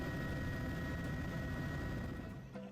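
A helicopter flying over Victoria Falls on the Zambezi River drones steadily with a rumbling rotor and engine roar, loud and continuous, easing slightly at the end.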